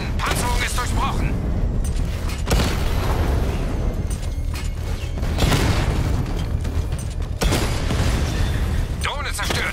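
A drone blows up during combat in Batman: Arkham Knight, with deep booms and bursts of gunfire thundering loudly and continuously beneath game voices and talk.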